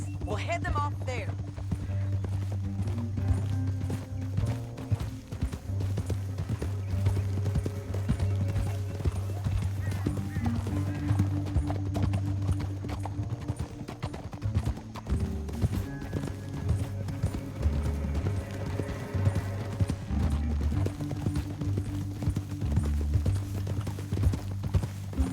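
Horses gallop in Red Dead Redemption 2, a steady drumming of hooves running through the whole stretch under game music and spoken dialogue.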